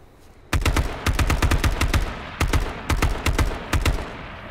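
Rapid bursts of automatic gunfire in the H1Z1 battle royale video game, loud and close, fired in several separate volleys with short pauses between them.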